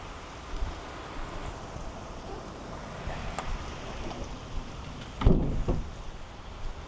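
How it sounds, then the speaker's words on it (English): A steady wash of heavy rain hisses quietly and continuously ahead of Hurricane Milton, with a short louder knock or thump near the end. "It's starting to rain pretty hard."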